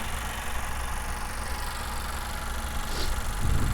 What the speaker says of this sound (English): Here is our 4-cylinder engine.